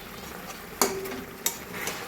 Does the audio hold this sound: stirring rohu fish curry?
yes